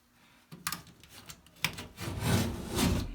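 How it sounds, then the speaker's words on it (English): A hand saw cuts into drywall with a few short scraping strokes, then settles into quicker, steady rasping strokes, close and unaccompanied. "use my saw to cut that"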